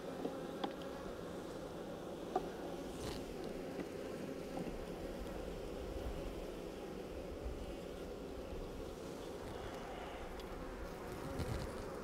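Honeybees hum in an open hive with frames being inspected, a faint, steady close buzzing drone lasting throughout with occasional light clicks and no talk.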